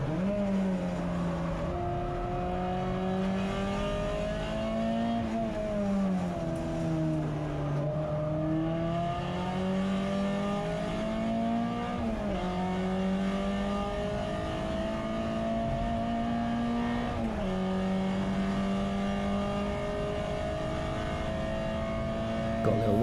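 Onboard sound from a saloon race car lapping Silverstone's GP circuit in a CSCC Tin Tops race: a loud, steady engine drone that climbs and dips through gear changes and braking, close and continuous throughout.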